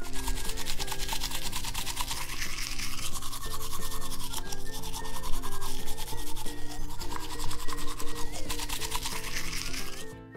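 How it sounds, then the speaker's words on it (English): Steady rapid rubbing and scrubbing of a toothbrush on a toy pup's teeth, continuous and close, with light music running underneath throughout. "Start by brushing your teeth."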